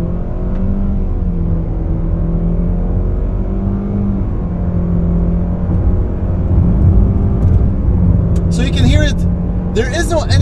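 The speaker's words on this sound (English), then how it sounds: "this is me flooring the car. Listen to it." A 2023 Nissan X-Trail 4WD engine with a CVT drones steadily under full throttle, pitch rising and falling smoothly without gear shifts, with a voice briefly speaking near the end.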